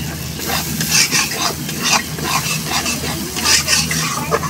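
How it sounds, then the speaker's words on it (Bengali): Mustard paste frying with chapila fish masala in a pan, stirred in a steady rhythm of scraping strokes over a constant close sizzle. "এভাবে ভালো করে আমি একটু একটু করে ভেজে নেব"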